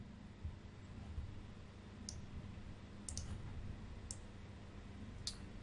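Computer mouse clicking, four or five faint crisp clicks spaced about a second apart over a low steady room hum.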